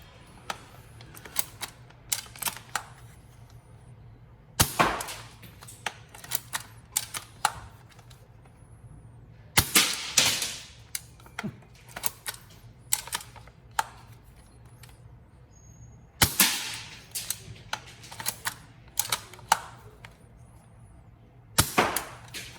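An upgraded TM L96 airsoft sniper rifle is fired repeatedly through a full magazine. Sharp, loud single shots are spaced several seconds apart. Between them come softer clicks and clacks of the bolt being cycled.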